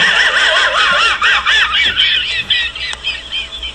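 A parrot squawks loudly and repeatedly in the video game The Long Dark, a run of harsh, warbling shrieks close up that tail off into shorter calls.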